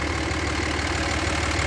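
A Cummins 5.9L diesel engine idles and vibrates with a steady, close, continuous rumble and knock, heard alone without talk.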